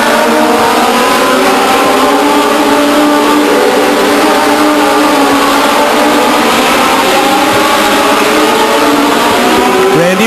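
Stock cars race around the Stockton 99 Speedway oval in 1999, several engines roaring loud and steady at once, with rising and falling pitch sweeps as cars pass, filling the whole stretch with no talk.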